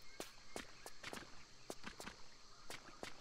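Footsteps squelching through mud in Tomb Raider III, a series of quiet, evenly spaced steps close by, faint overall with no talking.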